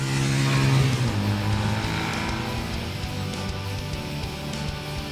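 A custom 1986 Honda Rebel 250 motorcycle pulls away, its small engine revving up loud and close at first, then settling into a steady buzzing drone as the bike rides on.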